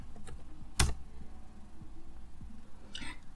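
Keystrokes on a computer keyboard while entering a Django migration command, one sharp, loud clack standing out among a few faint taps in a quiet room, with no talking.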